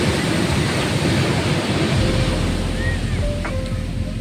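Sea waves wash onto the shore at Puri in a continuous roaring surf, loud and close, with wind noise and a faint distant tone.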